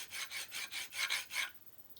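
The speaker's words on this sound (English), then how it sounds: "I'll use the diamond card. Find the bevel and just rub straight up and down." A diamond card rubbed up and down along the bevel of a woodturning tool, giving about seven rhythmic rasping strokes close by, then a short quiet tail.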